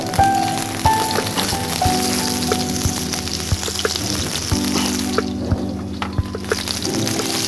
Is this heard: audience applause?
no